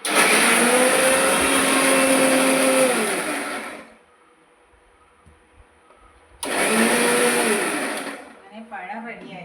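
An electric mixer grinder pulverising ingredients for unniyappam runs loud and close in two bursts, the motor whine winding down to near silence between them before restarting.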